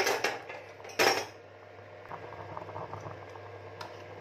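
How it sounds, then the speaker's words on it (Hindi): Milk with carrots boiling in a pot for a pressure-cooker carrot dish, a steady low bubbling simmer under a couple of sharp metallic clinks of utensils near the start, with no talking. "दूध में उबाल आ गया है,"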